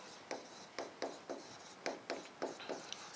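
Pen strokes scratch across paper in a steady series of short bursts, close and quiet, with no voice over them.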